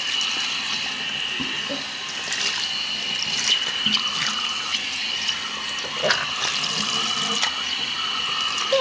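Tap water runs steadily while a Webkinz plush toy is rinsed of soap, a continuous close splashing flow with small drips and sloshes and no talking.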